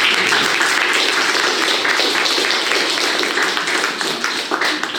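A church congregation applauds together, a dense, steady wash of many hands clapping at even loudness throughout, close and enveloping with no voices standing out.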